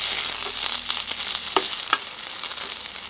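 Grated coconut sizzles and crackles steadily in a hot pan for curry leaf chutney, with occasional scraping clicks of a spoon stirring, close and continuous with no voices.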